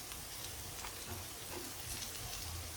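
Broken wheat and vegetables sizzle softly in a hot pan as they are stirred, a steady faint hiss with gentle scraping movement throughout.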